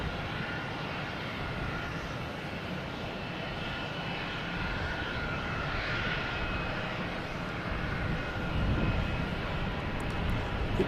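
A JetBlue Airbus A220 jet airliner at Boston Logan Airport gives a continuous, moderately distant engine roar that holds steady and swells slightly near the end, with no talking.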